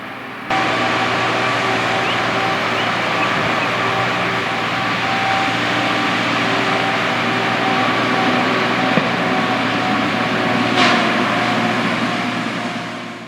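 Old forestry machines on worn, busted tyres clearing trees give a steady mechanical drone with a constant engine hum and tonal whine, heard at moderate distance throughout, with a brief sharper clatter near the end.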